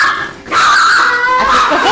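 Dogs lying in the sun make close, loud vocal sounds: a short yip, then a drawn-out whining cry that lasts most of two seconds.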